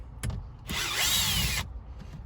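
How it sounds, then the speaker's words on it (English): A power drill fitted with a T25 Torx bit backs a screw out of a phone-mount bracket on an Alfa Romeo Stelvio, one close, loud whirring burst of about a second framed by small handling clicks. "So again, I'm just gonna use the T25 in the drill."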